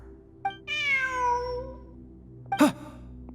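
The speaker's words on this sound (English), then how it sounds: "Look! A cat!" A cat meowing in the Genshin Impact video game, a clear drawn-out meow followed by a short second meow, close and alone over quiet ambience.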